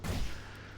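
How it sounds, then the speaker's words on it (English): Grenade blast in the video game Meet Your Maker, a single short, heavy boom with a low thump that quickly fades into a brief rumbling tail. "That's the grenade."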